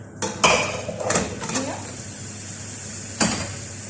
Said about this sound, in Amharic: አሁን አያችሁ እዚህ ጋራ ስጋችንን እንጨምራለን